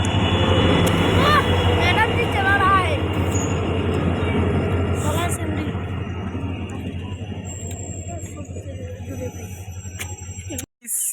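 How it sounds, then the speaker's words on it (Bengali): A train pulls into Folimari station, a loud rumbling approach with squealing wheels and horn-like tones, people chattering over it before the noise thins and cuts off. "এসে গেছে গাইজ ট্রেন এসে গেছে গাইজ"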